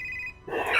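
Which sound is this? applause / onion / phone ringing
phone ringing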